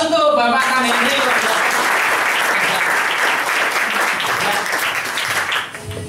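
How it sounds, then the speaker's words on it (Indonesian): Sustained applause from a seated audience honoring a guest at an Indonesian gathering, dense and loud clapping filling the whole stretch before easing off at the end, with a brief voice at the start. "aplaus untuk Bapak kami ini"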